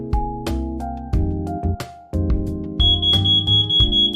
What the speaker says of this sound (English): A long beep indicates a success.